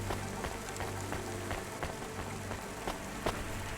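Rain in the video game Cloudpunk falls steadily on city surfaces outside a noodle restaurant, a dense continuous patter with occasional louder drops and soft taps, with no talk over it.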